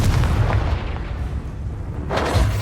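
A blasting spell going off in the Hogwarts Legacy video game, heavy booming explosions at the start and near the end with a rumbling tail between them.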